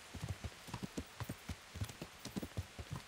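Horse hooves clip-clop in a steady, brisk rhythm of repeated close thuds on a road in the video game Kingdom Come Deliverance, with soft rain-like texture behind them and no speech.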